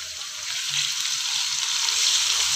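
Ginger garlic paste fries in hot oil for a vegetable pulao, giving a steady, close, hissing sizzle that holds throughout with no talking.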